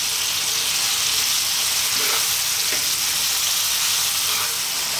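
A tomato curry masala for lamb and potato curry sizzles steadily in a pan over medium heat, with a constant frying hiss and a few soft scrapes of stirring, close and loud with no talking.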